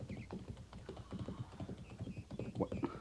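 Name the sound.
horse hooves as an Indian scout rides a horse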